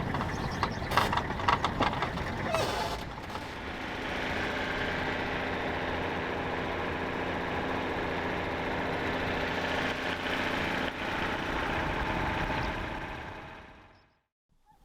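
A safari vehicle's engine hums low and steady while driving across the Masai Mara plains, with some rattling early on, before the sound fades out at the end.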